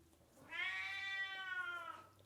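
A pet cat gives a single drawn-out meow lasting well over a second, clear and fairly close in a quiet kitchen, with no talking over it.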